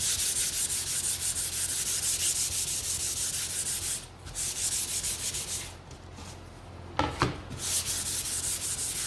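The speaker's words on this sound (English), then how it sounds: "Now I haven't sanded my board, so I'm just going to quickly do that." A wooden sign board for a hanging sign being hand-sanded with steady back-and-forth scratchy rubbing, close and continuous, with two brief pauses partway through.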